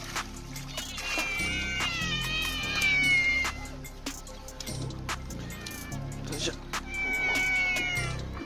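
Several cats used to being fed fresh fish meow and yowl repeatedly, loud and close, with overlapping long cries. Someone speaks over them throughout.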